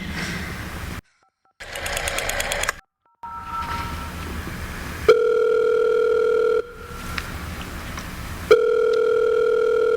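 A troublesome telephone line in an old radio drama carries a steady hum of dial tone, broken by silent gaps and bursts of rough line noise, the sustained tone returning loud and close near the end.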